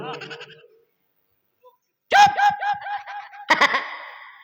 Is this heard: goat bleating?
yes